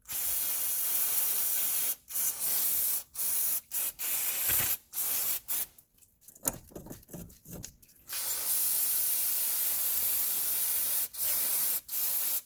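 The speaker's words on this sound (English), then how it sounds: "go ahead and clean it up with a blower and some brake clean" Brake cleaner sprays onto a 2006 Subaru Outback front wheel hub in a series of loud, close hissing bursts, some long and continuous, others short and broken by brief pauses.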